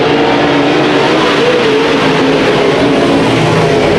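Race cars roar at full throttle on the Antioch Speedway oval during a New Year's Day Bash, four cars battling side by side for the lead; a dense, steady engine blare fills the whole stretch with no voices.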